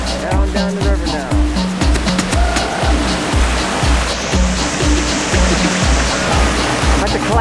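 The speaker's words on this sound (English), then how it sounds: "At the class 1 rapid." River water rushing steadily through an easy class 1 rapid, a loud, continuous broadband roar with a pulsing low rumble, heard close up with no break.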